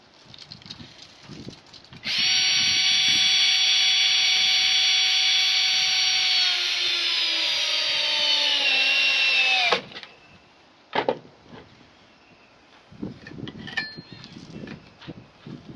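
A power drill drives stainless steel screws into a railing's 90-degree wall return, a loud sustained high whine lasting about eight seconds that drops in pitch as it ends, with scraping and tool handling before and after.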